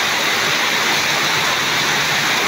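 Heavy rain pours outside a garage as a steady, dense, close hiss with no breaks and no voices.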